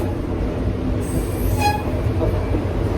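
Passenger cars of the NKP 358 Autumn Limited excursion train rolling through Indiana, a loud steady rumble heard from on board with a brief wheel squeal partway through.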